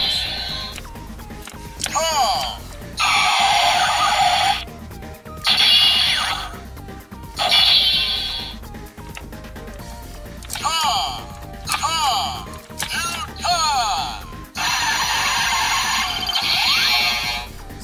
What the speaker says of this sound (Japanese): ハンドルを回してからボタンを押すと攻撃音が変化します。